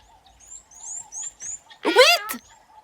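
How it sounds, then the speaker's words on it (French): A bird in a jungle setting gives a short run of thin, bright whistled chirps, followed by a louder, fuller burst of warbling calls, close and alone over a faint low hum. "« Ouit !» répond l'oiseau avec son sifflement mélodieux"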